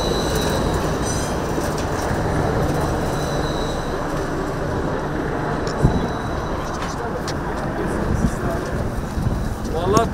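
Tram rolling along rails beside the Golden Horn in Istanbul, a steady low rumble with faint wheel squeal and clicks across the whole stretch, with people talking over it.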